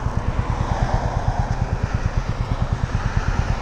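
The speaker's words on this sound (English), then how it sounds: "Lots of motorcycles out today." A rapid, pulsing engine chug of several motorcycles passing nearby, steady and moderately loud with rumbling road noise beneath.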